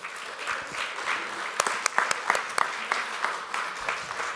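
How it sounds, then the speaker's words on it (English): An audience at a film festival grand finale claps steadily, a warm, moderately loud spread of hands with some sharper individual claps popping out near the middle. "Let's give a good clap to Kathy."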